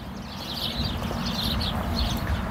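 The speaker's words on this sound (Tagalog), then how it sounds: "tunog ng ibon ang maririnig mo dito" Outdoor ambience in a plaza with scattered high bird chirps over a steady low rumble of traffic and crowd noise.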